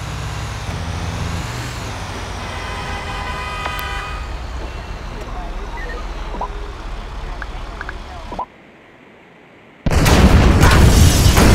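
Incendiary explosives detonate in the GTA V video game. A steady vehicle rumble with horn-like tones cuts to a brief silence, then a loud, sustained roaring blast erupts.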